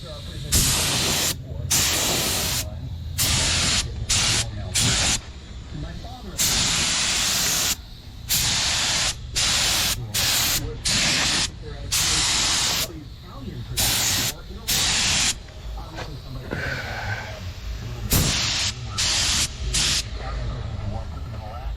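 A spray gun applies paint thinned with mineral spirits in light coats on a CUCV M1031 truck project, loud hissing bursts in a stop-start rhythm of short and longer passes, with speech between sprays.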